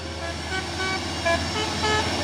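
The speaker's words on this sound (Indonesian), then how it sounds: "Ada teloletnya ini, ya." A CPO tanker truck sounds its telolet horn, bright musical toots in short repeated bursts over a continuous engine and road rumble.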